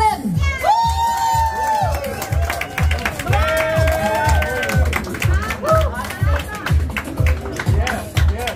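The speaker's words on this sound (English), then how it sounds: "please give the big round of applause for the man of the house, Mr. Harlan." At a restaurant grand opening in Pattaya, a crowd claps, cheers and whoops loudly and continuously, with shouting voices mixed through the sustained applause.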